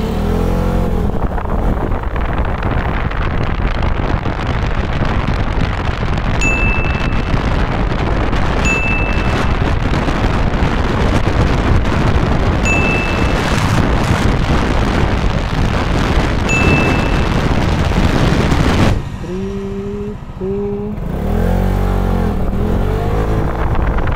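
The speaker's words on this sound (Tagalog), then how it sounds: "Ito naman yung naging acceleration power ni Fortress 160." A Fortress 160 motorcycle accelerates hard with a loud, rising engine roar and wind buffeting, sustained for about twenty seconds before dropping off and then picking back up.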